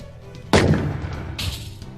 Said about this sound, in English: Destroyed the wall ornament with the projectile weapon.